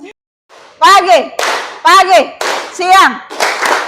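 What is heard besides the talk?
group clapping hands in a classroom clap game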